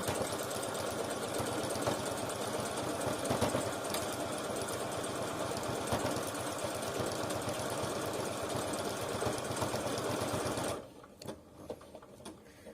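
A Bernette B38 sewing machine stitches letters in a continuous fast mechanical whirr with rapid needle rhythm for about eleven seconds, then stops, leaving faint clicks.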